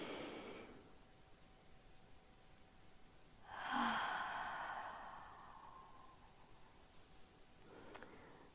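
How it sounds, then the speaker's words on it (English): A single soft, audible exhale through the mouth during a morning yoga-style movement session, a gentle whooshing breath that swells and fades over a couple of seconds amid quiet room noise. "And that audible exhale through your mouth to let everything go."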